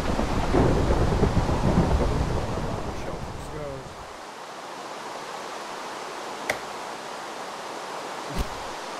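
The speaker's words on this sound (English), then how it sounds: "Rain is really coming down." Heavy rain falls in the video game Minecraft, with a loud rumbling wash at first that settles into a steady hiss. A few sharp cracks stand out later, and no one speaks.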